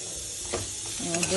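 Sesame seeds are stirred and roasted in a wok, giving a steady close sizzle with light scraping of the stirring spoon and a brief faint voice near the end.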